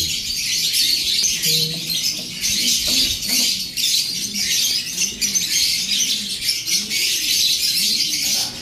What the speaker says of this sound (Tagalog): 3 ibon po ang inabil sa atin. So ito po yung mga ibon.